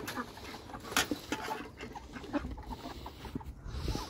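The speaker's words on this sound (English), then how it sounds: "Those are the turkeys." Several turkeys call in short, scattered gobbles and clucks at middling distance, with faint farmyard background noise between calls.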